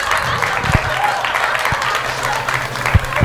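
Loud, continuous audience applause fills a comedy event with comedian Tahir Naushad, a dense patter of clapping with a few sharper individual claps standing out.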